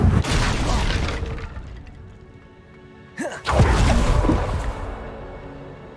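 A Confringo explosion spell cast in Hogwarts Legacy bursts out as a loud, dense boom with a sharp crack partway through, swelling into a rumbling blast over game sounds.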